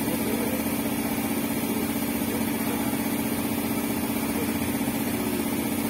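A Toyota Fortuner engine runs rough, giving a steady, close, droning idle with an uneven, buzzing vibration that continues without a break.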